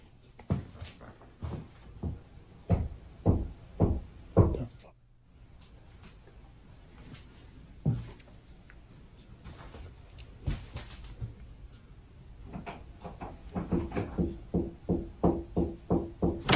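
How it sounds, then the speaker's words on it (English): Strange knocking in a basement: sharp, irregular knocks in uneven bursts, first a cluster, then scattered single raps, then a quicker run of knocks at the end, with a voice speaking in between. "strange knocking noises can be heard coming from somewhere within the basement"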